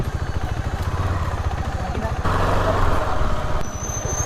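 An off-road motorcycle with a low-pressure tyre rumbles steadily and close by, its engine note rising slightly midway, with people talking over it.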